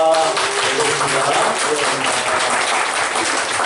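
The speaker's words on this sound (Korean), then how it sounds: "박수로 한 번 더 환영합니다" Congregation applauding in welcome during a Sunday church service, a steady wash of many hands clapping at close range that holds evenly for a few seconds without speech.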